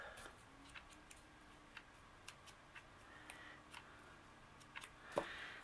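Faint, sparse snips from scissors trimming a small paper number for a craft project, scattered single cuts over a quiet background.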